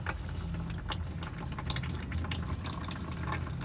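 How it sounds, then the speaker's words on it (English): Engine oil drains from a 2013 Honda Odyssey into a pan below, a steady close trickle and splatter of liquid. The sound is continuous and moderately loud, with no talking. "Scooting my pan over a little bit because the oil's starting to slow down."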